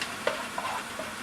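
Garlic preserved in citric acid browning in a hot pan, a close, steady sizzle with a few soft stirring scrapes, heard alone for a brief moment.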